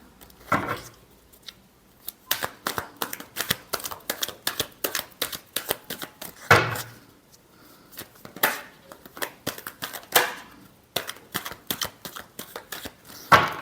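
Tarot cards being shuffled by hand in a series of quick, crisp riffling and slapping bursts, repeated rhythmically and heard up close with no talking.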